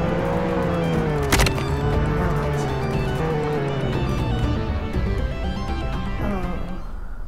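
Police car driving in the Roblox game Jailbreak, a steady engine drone with a held tonal hum running the whole time and a brief sharp click near the start, with talking over it.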